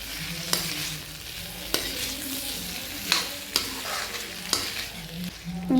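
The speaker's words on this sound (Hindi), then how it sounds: "यहाँ पर कटहल को हम अच्छे से भून रहे हैं" Jackfruit pieces stir-fried in masala and oil in a kadhai, with a steady sizzle broken by sharp, repeated spatula scrapes and knocks against the pan at a loose, irregular rhythm, close up and with no talking.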